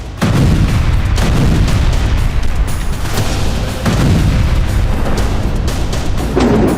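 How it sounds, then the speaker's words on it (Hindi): Explosions from Russian bomb and missile strikes on Ukrainian cities, loud booming blasts in quick succession with a constant dense rumble between them. "रूस ने यूक्रेन के 21 शहरों पर बम और मिसाइल बरसाए।"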